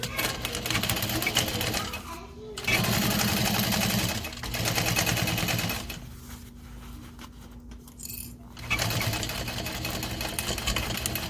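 A sewing machine top stitches a folded-under edge on a backpack at a long stitch length, running in several steady bursts of a few seconds each with short pauses between them.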